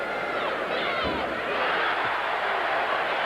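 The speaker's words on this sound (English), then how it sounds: "They're applauding Larry Bird's tremendous pass." An arena crowd at a college basketball game roars and applauds a pass by Larry Bird, a broad, steady wash of cheering and clapping that holds at one level throughout, with faint court thuds beneath.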